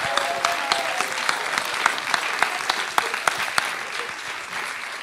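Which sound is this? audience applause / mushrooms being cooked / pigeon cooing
audience applause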